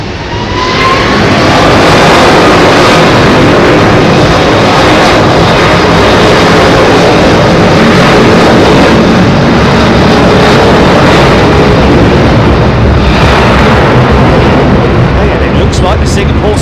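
A heavy jet airliner roars down runway 27R at London Heathrow on its takeoff roll, a loud, sustained, broadband engine thunder that stays close and powerful for the whole stretch, with faint talk underneath.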